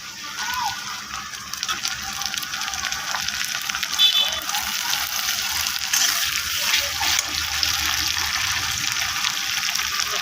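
Ginger-garlic paste, chili paste, turmeric and salt frying in a pan with browned onions for a rohu fish and taro curry, a steady hissing sizzle with occasional scraping stirs, close and fairly loud.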